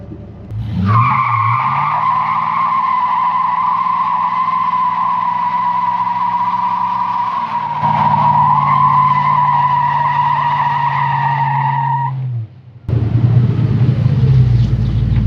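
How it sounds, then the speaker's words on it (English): A Fox Body Mustang 5.0 roars steadily while both rear tires spin and squeal in a long, continuous burnout, loud and close, then the engine revs briefly after a short pause. "Spins the tires, spins both tires."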